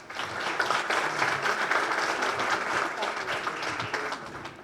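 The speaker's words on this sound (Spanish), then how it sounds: "Le damos un aplauso, por favor." A workshop audience of course participants applauds, moderate clapping from a room of people that swells and fades over several seconds, heard at some distance.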